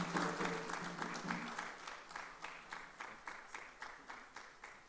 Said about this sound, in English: Another round of applause for him, ladies and gentlemen.